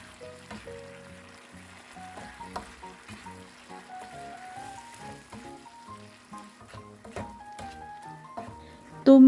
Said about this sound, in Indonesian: Aduk perlahan sampai tercampur rata dan bumbunya meresap